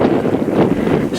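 Gusty wind buffets the microphone outdoors beside a large building in Swansea, a steady broadband rumble that swells and eases without pause and with no talk over it.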